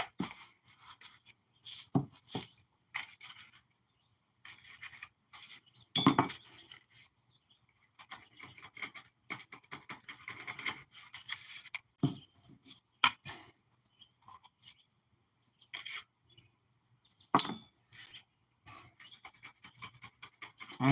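Homemade firework composition being rammed with a flat drift in increments: irregular bursts of sharp, close scraping and knocking taps separated by short quiet gaps, fairly faint overall.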